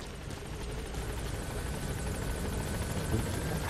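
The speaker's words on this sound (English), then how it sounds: "Do I have to like call in the helicopter?" Helicopter arriving in the video game Metal Gear Solid V: The Phantom Pain, a dense, steady rotor roar with fast chopping pulses, quite loud and continuous throughout, with no voices over it.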